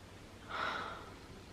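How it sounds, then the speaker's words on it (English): A short, breathy sniff at a Lush bath bomb from a Halloween range, one close inhale rising and fading within about half a second, alone. "But let's give it a first little sniff."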